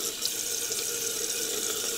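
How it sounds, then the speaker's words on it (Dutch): Tap water running steadily into a sink while a face is wetted, a continuous close hiss and splash with faint irregular splatters, no voices. "ik ga eerst eventjes mijn gezicht nat maken met water"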